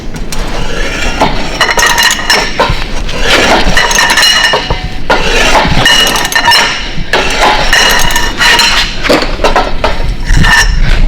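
Continuous loud metallic clanking and rattling as a socket wrench fitted with a 2.5 to 3 foot pipe extension works loose a very tight bolt, with steady ratcheting and clinking throughout and no speech.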